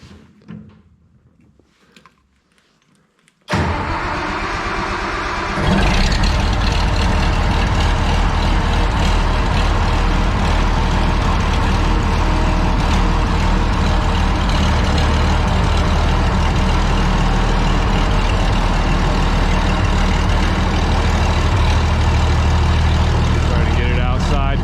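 A Minneapolis Moline A4T 1600 tractor engine cranks and catches after a few quiet seconds, then settles into a loud, steady diesel run inside a barn.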